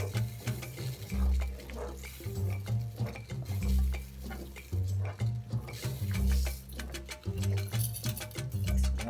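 Rice being stirred into a pot of boiling liquid for jollof rice, giving repeated scraping and sloshing strokes with low thuds, fairly close and loud, no talking.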